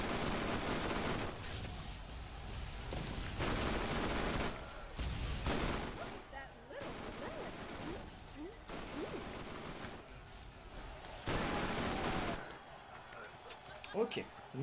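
Sustained bursts of rapid SMG fire in Borderlands, several loud stretches of continuous shooting separated by short pauses, under steady talk from a commentator.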